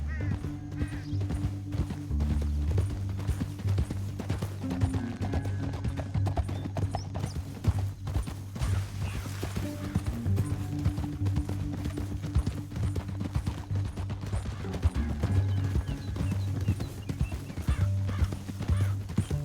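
In Red Dead Redemption 2, horses gallop along a canyon trail in rapid, continuous clip-clop hoofbeats, with occasional whinnies over a steady game music bed and no speech.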